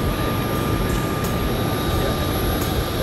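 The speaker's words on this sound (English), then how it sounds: "So I guess this is the plane taking us to Labuan Bajo." A plane at an airport for a flight to Labuan Bajo gives off a loud, constant engine roar and whine close by, holding level for the whole few seconds without any talking.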